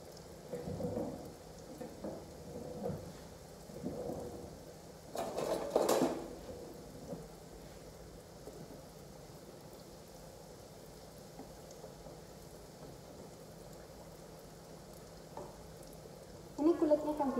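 Crackers (kerupuk) frying in hot oil, a soft crackling sizzle with a few louder bursts and puffs, fairly faint and steady with brief pauses, no talk over it.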